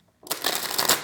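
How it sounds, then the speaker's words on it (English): Tarot cards being shuffled by hand, a dense papery riffling and rustling that starts after a brief silence and runs steadily to the end, close and fairly loud with no talking. "Let me shuffle these."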